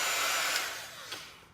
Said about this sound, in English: I am going to plug in my handy dandy heat tool, because I am going to want to dry in between